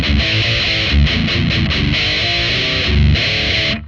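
Heavily distorted electric guitar played through an RG150 amp plugin for a metal tone, loud chugging palm-muted riffs with rhythmic stops and sustained chords, no voice.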